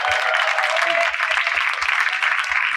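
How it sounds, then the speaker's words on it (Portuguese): Audience applause at a book-shop talk in Santos, dense steady clapping filling the room for nearly three seconds, fairly loud and continuous with no talk over it. "Vamos bater uma salva de palmas aí para a maioria do STF"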